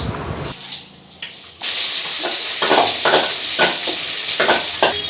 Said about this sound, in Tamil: இப்போ இதில் வந்து வெங்காயம் வந்து போட்டாச்சு பாருங்கள்